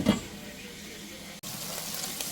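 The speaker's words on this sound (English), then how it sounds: "Cooked my smoked turkey sausage in some olive oil so they turn nice and brown." Smoked turkey sausage browns in olive oil in a pan, giving a steady, moderately loud sizzle that cuts out for an instant partway through and then resumes.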